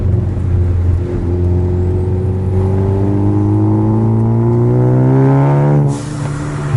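A modified 2015 Ford Focus ST rises through a long rev, the engine note climbing steadily and loudly from close by before dropping off sharply near the end.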